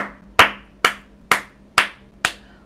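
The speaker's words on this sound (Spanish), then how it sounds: "Un aplauso para Ori y todos desde sus casas" Five sharp single hand claps land at a steady, slow rhythm, close and loud, each ringing briefly in a quiet room with no talk.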